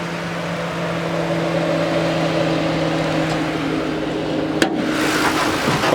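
A 2009 Ford Crown Victoria Police Interceptor engine runs with a steady, close mechanical hum and drone, holding even throughout with one sharp click near the end; no one speaks.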